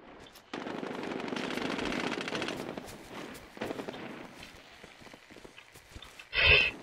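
Rapid automatic gunfire in the shooter video game Medal of Honor Warfighter, a dense sustained burst up close followed by scattered shorter shots and a sharp blast at the end.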